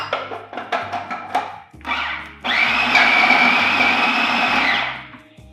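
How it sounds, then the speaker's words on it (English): A blender whirs through oat blondie batter with 70% cocoa vegan chocolate, first in several short pulsed bursts, then one steady high-pitched run of a few seconds before winding down. "And just slightly blend it."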